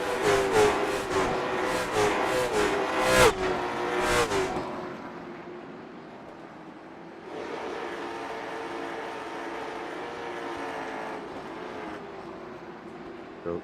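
Late model stock car engine in the iRacing sim at Oxford Plains, droning and shifting pitch as it laps, loud at first with sharp transients, then dropping to a steadier, quieter hum before swelling again, with talk over parts of it.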